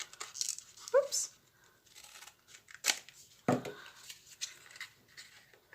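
Scissors trimming craft material for a decorative clock scene, a few quick close snips and crinkling paper rustles spread across a quiet moment, with brief speech nearby.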